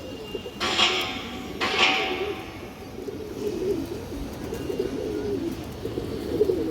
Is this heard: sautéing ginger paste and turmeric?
no